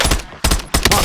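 Loud, close bursts of automatic gunfire in Call of Duty Warzone on the Verdansk battle royale map, three rapid volleys in quick succession with no talking.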